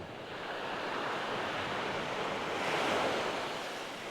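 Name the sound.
waves breaking on the shoreline at Charmouth beach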